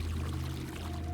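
Water gushing and pouring in a body-horror game set inside a colon, a steady, continuous rushing flush with a low rumbling undertone throughout, fairly loud and alone without talk.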